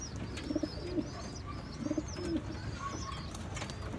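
Breeder pigeons coo softly in two short bursts of low, throaty calls over a steady background hum, with faint chirps from other birds in the distance.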